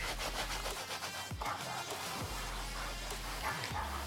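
Plastic restorer product is rubbed back and forth on car plastic trim, giving a close, scratchy rhythmic rubbing with repeated strokes under a low background hum.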